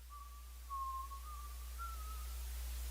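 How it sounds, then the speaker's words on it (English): A single thin, wavering whistled tone drifts slightly up and down in pitch for a couple of seconds, faint and alone over a quiet, hissy background. "How this man whistling with no mouth?"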